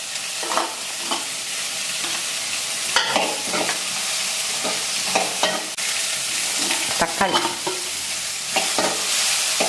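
Capsicum, onion and cabbage are stir-fried in a pan, a steady close sizzle broken by repeated sharp scraping strokes of a spatula at an uneven rhythm, with no talk.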